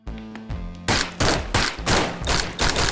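Rapid gunshots from a virtual-reality shooting game, first a brief tonal chime, then five or six loud, sharp bursts fired in a quick, even rhythm, each with a short ringing tail.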